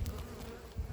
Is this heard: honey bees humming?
yes